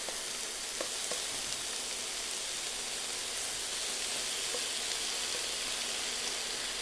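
Chicken pieces browning in a hot pan for a korma, giving a steady, even sizzle and frying hiss with a few faint clicks. The sound is close and moderately quiet, with no one talking.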